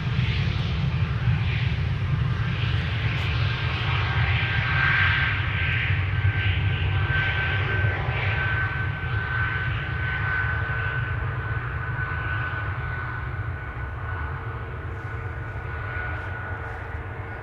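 An Airbus A220 at Amsterdam Schiphol Airport produces a continuous loud engine roar with a steady whine, holding nearly level and fading slightly toward the end.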